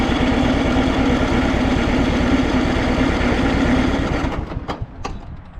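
Toro Timecutter Z4200 zero-turn mower engine running after an overhaul, a loud, close, steady rhythmic idle that cuts out near the end, followed by a few mechanical clicks.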